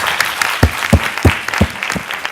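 An audience applauds after a talk, a lively crowd clapping with a few sharper, rhythmic claps standing out every third of a second, close and fairly loud.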